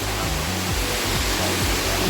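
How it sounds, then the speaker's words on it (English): Water pours steadily in a waterfall shower at Aasvoekrantz Cave campsite in Highmoor Nature Reserve, a loud, continuous rushing wash filling the scene, with a faint low rumble underneath and no voices. "And that is the shower."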